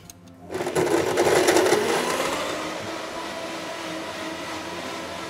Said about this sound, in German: Ab auf den Mixer.